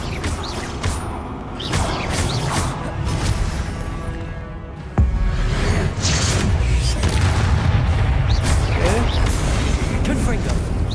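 Repeated Confringo blasting spell explosions in Hogwarts Legacy combat, a string of booming impacts with one heavy blast midway followed by dense, loud crashing and whooshing.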